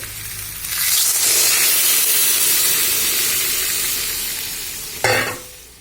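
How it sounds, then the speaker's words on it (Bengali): Loud burst of sizzling and hissing as water hits hot oil in a pan of frying potatoes and pointed gourd, the steamy crackle slowly fading, then a brief clatter near the end. "এবারে আমি এর মধ্যে দিয়ে দেব জল।"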